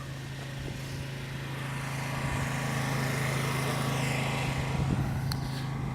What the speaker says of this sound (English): Now I'll pressure wash this for a full 5 minutes using an industrial strength, high pressure, high temperature pressure washer.